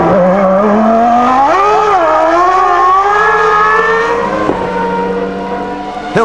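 A 1994 Formula 1 race car screams through the last lap of the Japanese Grand Prix, its loud high-pitched engine whine climbing and dipping in pitch through gear changes, close and continuous without talk.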